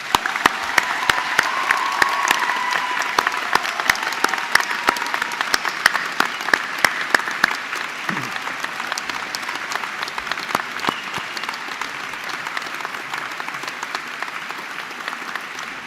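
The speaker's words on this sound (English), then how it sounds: "please join me in giving them a heartfelt round of applause" University graduation ceremony audience applauding the graduates: a large crowd's continuous, even clapping with sharp individual claps standing out, holding steady for the whole stretch and easing slightly toward the end.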